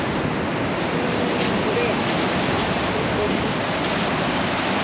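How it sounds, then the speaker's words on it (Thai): Sea waves washing onto a beach in a steady, rushing roar, with wind buffeting the microphone throughout. "ฟังเสียงทะเล"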